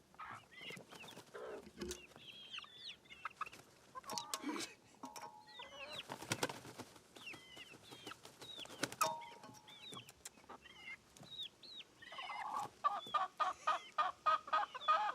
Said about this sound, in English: he's out there feeding the chickens treats